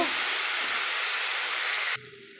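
Fish head and potatoes sautéing with spices in a pan give a loud, steady sizzling hiss that drops off sharply near the end.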